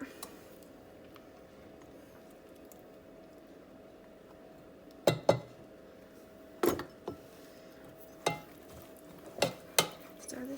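Peach BBQ sauce being stirred in a pot after apple cider vinegar and maple syrup go in, a low steady background broken by several sharp utensil scrapes and clinks in the second half.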